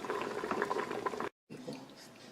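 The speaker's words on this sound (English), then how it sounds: "here we've got the chopped potatoes just boiling a little bit before we start adding the other ingredients" Chopped potatoes boiling in a pot of water, a soft bubbling gurgle that breaks off for a moment and then resumes, faint and close.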